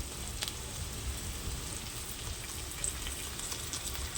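Spice paste with onion and green chili fries in a pan, a soft, continuous sizzle and crackle close by with no talking.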